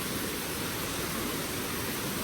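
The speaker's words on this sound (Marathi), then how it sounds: "आवाज लय हवा या धबधब्यांचा" A large waterfall at Amboli roars in a steady, loud, unbroken wash of noise, heard close up with no other sounds.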